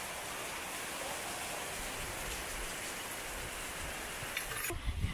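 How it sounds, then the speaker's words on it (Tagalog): Heavy rain pours down steadily at a poolside in Siargao, a dense, even hiss that fills the whole stretch, with a few louder thumps near the end. "Grabe, lakas ng ulan talaga."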